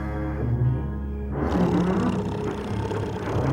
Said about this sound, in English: It was the loudest snoring you ever heard.